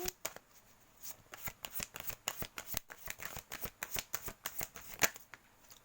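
A deck of cards is shuffled for a card reading: rapid riffling bursts and sharp flicks repeat in an uneven rhythm, close and clear, with no talk over them.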